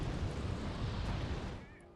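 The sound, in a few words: bombing of tanks in Wargame Red Dragon video game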